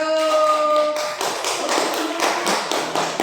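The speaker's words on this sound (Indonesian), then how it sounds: "Ayo tepuk tangan untuk kelompok 1." Elementary classroom clapping for a student group, a quick run of sharp claps over a fading tonal ringing at the start, close and loud with no speech.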